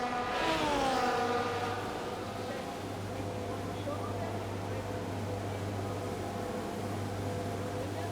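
Formula 1 cars at the Brazil race in the F1 24 video game, a steady engine drone with a rising whine early on, mid-distance and continuous, while a voice talks over it.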